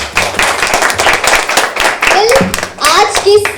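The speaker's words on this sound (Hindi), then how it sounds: "मैं आपका जोरदार तालियों से स्वागत करती हूँ।" Audience clapping welcomes the grand finale of a dance competition, continuous applause under a voice talking over it.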